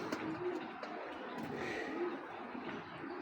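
Male racing pigeon cooing softly, two brief low coos about a second and a half apart, faint and close against a quiet room with light background noise.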